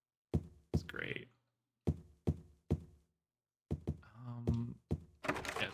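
A locked door in the video game Silent Hill 3 rattles and thunks as it is tried, several sharp, close knocks in a loose rhythm, then a longer, clattering rattle and a few more jolts.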